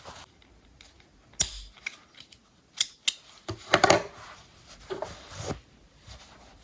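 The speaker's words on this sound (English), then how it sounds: "And then we can cut our yarn." Scissors snip through yarn up close, several crisp metallic clicks and cuts at irregular intervals, with soft handling rustles between them.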